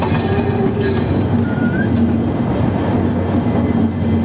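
The Kolkata–Silghat Town Kaziranga Express, hauled by a WDP4 diesel locomotive, rumbles along at close range, a loud continuous roll of wheels on track with a faint squeal riding over it.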